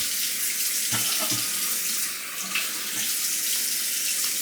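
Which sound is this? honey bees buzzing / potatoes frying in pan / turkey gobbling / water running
water running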